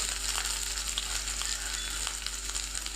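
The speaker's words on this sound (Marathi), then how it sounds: "आता आपण याच्यामध्ये तेल टाकणार आहोत। जिरं टाकणार आहेत आपण, बडीशेप," Cumin and fennel seeds sizzle in hot oil for potato paratha preparation, a continuous close hiss and crackle with small scattered pops, steady and unbroken throughout.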